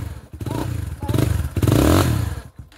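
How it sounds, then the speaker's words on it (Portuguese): A motorcycle runs in third gear on a dirt trail ride among friends. The engine is loud and close, revving in a few surging pulses with some clatter, and a brief voice can be heard. "A moto tá em terceira, bicho."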